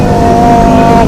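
A motorbike engine revs hard and steady on a cool mountain road in Lembang, Bandung, a loud close droning roar held throughout with no voices.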